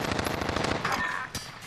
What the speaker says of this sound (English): Dude, I was literally shooting you the entire time, Locke.